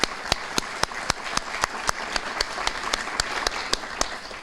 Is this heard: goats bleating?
no